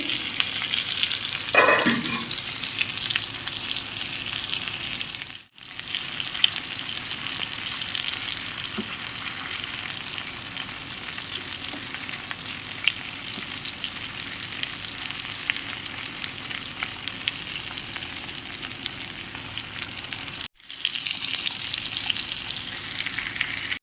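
Chicken tikka pieces fry in a covered pan, a steady, soft sizzling crackle that carries on alone through the whole long stretch, with two brief dropouts.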